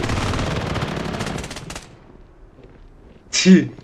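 Rapid automatic gunfire in the shooter game Blood Strike, loud and dense for almost two seconds, then dropping to quiet before a short shout from a player.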